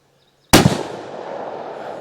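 A single sharp rifle shot from a 7.62x39 round loaded with Hornady Black SST ammunition cracks loudly after a moment of silence, followed by a long ringing outdoor echo that slowly fades.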